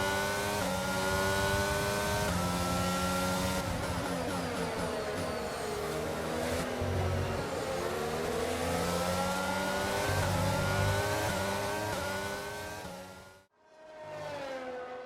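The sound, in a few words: Formula 1 race car engines at Zandvoort, from the video game F1 22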